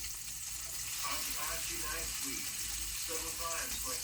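Sausage frying in a pan with a lot of rendered grease, a steady faint crackling sizzle running throughout, with a person talking over it.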